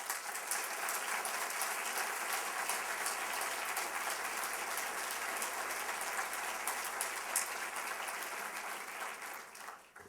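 A college audience applauds steadily for about ten seconds to welcome the president at a state-of-the-college address, a dense, even clapping that fades out at the end.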